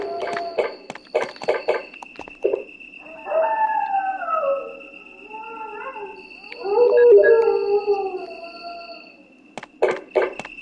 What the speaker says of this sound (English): Even though there's dogs howling, you don't have to worry